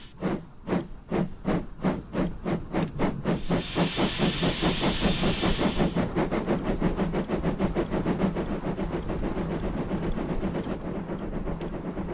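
An Ivatt steam locomotive shunting on the North Somerset Railway in Train Simulator 2022 chuffs rhythmically, then a loud hiss of steam bursts out for a few seconds, with the steady beat carrying on.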